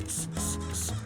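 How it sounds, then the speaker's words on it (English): Wheel cleaner sprayed onto a wheel of a 2010 Mercedes E63 AMG: three quick, close hissing bursts from a trigger sprayer in steady rhythm, with no talking. "I'm going to spray a little bit"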